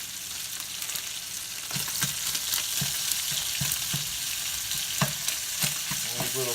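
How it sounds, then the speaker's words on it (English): Little sausages frying in a pan, a steady crackling sizzle with regular scraping stirs, fairly close and loud, no voices. "These little sausages cooking up good."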